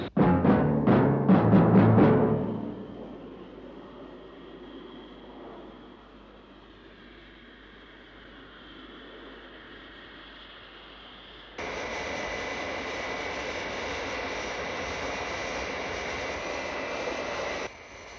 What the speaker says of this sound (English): Captain Scarlet and Captain Blue have regained control of the aircraft